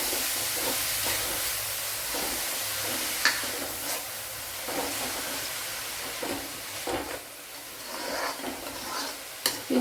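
Sliced bitter gourd and onion sizzle with a constant hiss in a hot pan for Kerala-style thoran, with scraping strokes from a spoon stirring every second or two, close and fairly soft.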